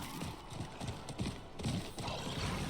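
A ghost horse mount galloping in Diablo IV, its hooves making a quiet, rapid clip-clop rhythm over a soft game ambience with no talk.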